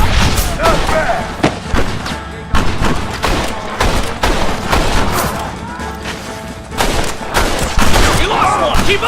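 Dense, sustained gunfire fills a Red Dead Redemption shootout as overlapping rifle and pistol shots crack and boom, with explosive bursts, and a voice shouting over the battle.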